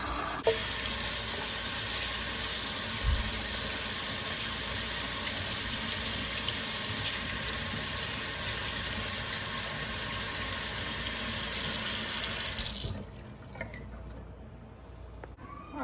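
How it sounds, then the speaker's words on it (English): Tap water runs steadily into a sink as lettuce and tomatoes are washed, a continuous broadband rush for about thirteen seconds that cuts off abruptly, leaving near silence. "So we're just going to wash this up nice and clean."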